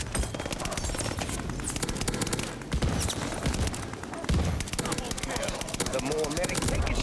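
M1916 rifle fire in Call of Duty Vanguard multiplayer, dense rapid shots in quick bursts layered over game explosions and battle noise, with a voice talking over the action.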